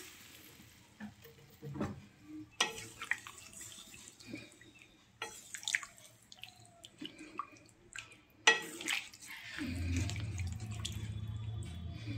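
Water is poured into a pan of lightly boiled winter vegetables for a thin fish curry, giving a steady close pour toward the end after scattered drips, clinks and stirring noises.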